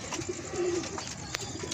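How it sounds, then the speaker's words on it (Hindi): A khaki, slate-grey Lakha pigeon gives a soft, low coo, one short close call against faint background noise. "ये ओवरऑल इसका लुक है, खाकी सा कबूतर है, स्लेटी लाखा सा।"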